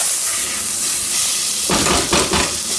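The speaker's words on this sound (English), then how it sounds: "Just cook it for a couple of seconds so it's all coated with the ghee." Rice sizzles steadily in hot ghee in a pan for a lamb curry, a loud continuous hiss with a few stirring scrapes that add brief surges near the end.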